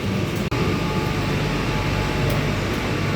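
Inside an air-conditioned Kolkata Metro carriage, a steady, dense rumble and hiss of the moving train and air conditioning runs unbroken, apart from one tiny dropout near the start.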